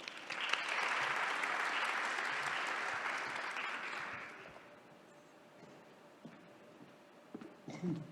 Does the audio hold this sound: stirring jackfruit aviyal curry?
no